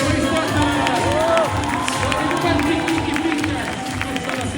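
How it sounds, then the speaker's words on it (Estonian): A crowd at a sports competition cheers and applauds a team, with loud shouting and clapping mixed with voices and an announcer over a busy, echoing hall. "Suur aplaus meie võistkonnale!"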